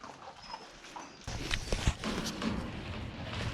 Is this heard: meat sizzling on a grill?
no